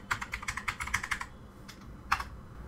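Quick, close keystrokes clatter on a computer keyboard as a browser search is typed in a Windows 11 setup, a steady burst of taps then a pause and a couple of final presses, quiet and without speech.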